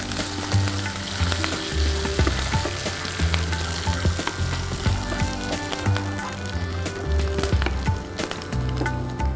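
Ginger, green chilies and curry leaves sizzle loudly in a hot pan of oil, a steady close frying crackle with sharp spitting pops throughout and occasional stirring clinks.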